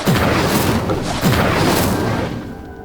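Incendio fire spell cast in the wizarding game Hogwarts Legacy, two loud booming whooshes in quick succession that fade into a lingering roar.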